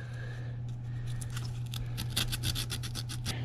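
A part of a vintage heirloom lawn mower is rubbed with an emery board in quick, rhythmic rasping strokes that speed up and grow denser, close and moderately loud over a steady low hum.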